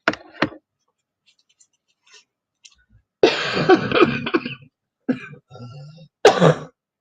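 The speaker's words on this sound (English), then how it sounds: "I still have a slight cough" Someone with a slight lingering cough lets out two short, sharp coughs close up, then a few faint rustles before a longer bout of throaty coughing and throat clearing, ending with another short burst.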